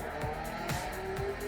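A Ferrari F40 in a racing video game roars steadily at close range, with its engine note rising and falling and a few short tire squeals and skids breaking through.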